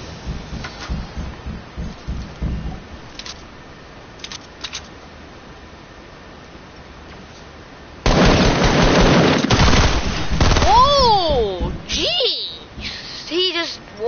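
A quick burst of gunfire in an online shooter game breaks out loud and close after a quieter stretch, with a player's voice talking over the shots.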